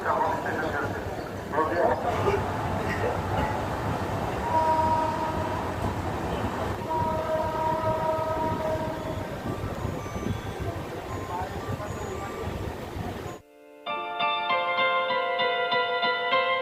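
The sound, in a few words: train arriving at Salboni station, Purulia–Howrah line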